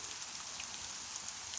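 Steady rain from a summer evening storm in West Carrollton, Dayton, Ohio, falling on surfaces around a porch, forming a dense, even patter throughout with no voices.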